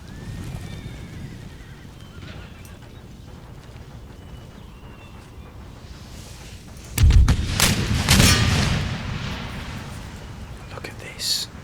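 A massed musket volley from line infantry in the video game Empire: Total War, a sudden loud crackling burst of many shots followed by lingering rattling fire and a later smaller pop, after quiet ambient battle murmur.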